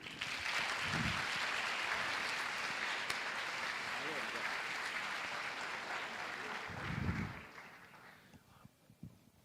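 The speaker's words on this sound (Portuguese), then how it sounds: "Aplausos" An audience applauds at a literary festival panel, steady clapping sustained for several seconds before fading out, with a voice briefly heard over it.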